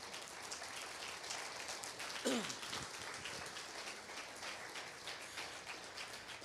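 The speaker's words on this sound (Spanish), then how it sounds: "¿Cuántos le dan un aplauso al Señor?" A church congregation applauding, a soft, distant patter of many hands sustained throughout with a brief voice rising in the middle.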